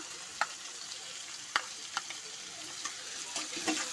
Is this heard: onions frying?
yes